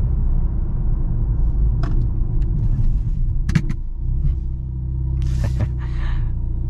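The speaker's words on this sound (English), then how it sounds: "let's go ahead and do a brake test here" A 2023 Mercedes-Benz C43 AMG with a 2.0-liter turbo engine brakes hard during a brake test. A steady low road and engine rumble carries through, with a brief knock midway and short hissing noises near the end.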